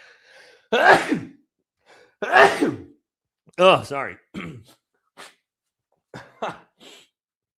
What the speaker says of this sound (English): Got the sneezes.